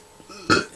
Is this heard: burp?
yes